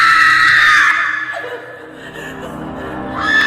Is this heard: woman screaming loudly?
yes